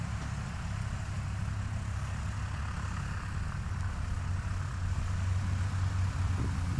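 Distant engine drone of a small plane on short final approach at a Heritage STOL short takeoff and landing competition in Virginia Beach, a steady low hum under broad outdoor wind noise with no talking.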